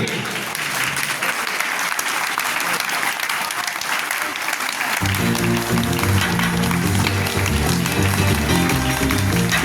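A meeting audience in Digha claps loudly and continuously; partway through, amplified music joins in beneath the steady applause and carries on with it.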